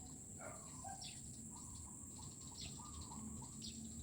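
Many birds chirp and sing in early morning over a subdivision, scattered short calls over a steady hum of insects or crickets, fairly distant and soft.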